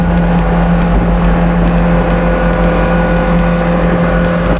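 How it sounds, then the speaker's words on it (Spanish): Motorboat engine on a lake, a loud, steady droning hum that holds an even pitch and never lets up, heard close with no voices. "Creo que van en esa lancha."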